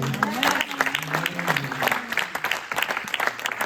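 A church congregation applauds at a Sunday service, dense steady clapping from many hands filling the room, with a few voices calling out underneath.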